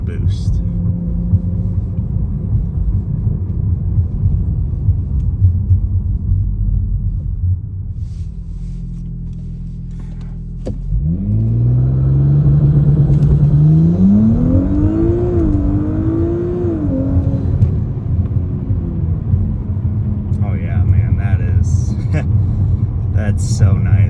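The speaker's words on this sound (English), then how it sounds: "So we will sit on it for a second and let it build a little bit of boost." An Audi B9 S4 engine held on launch control with an adjustable anti-lag setup, idling with a low rumble before revs rise and hold steady as boost builds, the tone wavering slightly. Loud and close, with a voice in the background.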